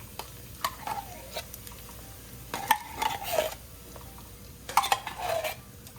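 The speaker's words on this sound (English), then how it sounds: "we're gonna give this a good stir" An enchilada pie mixture with cream of onion soup is stirred in a pan. Several separate scraping, clinking strokes rise over a soft, quiet sizzle, with short pauses between them and no speech.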